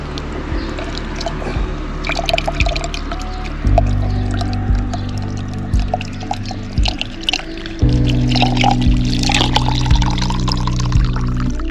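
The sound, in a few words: filling a water bottle from a tap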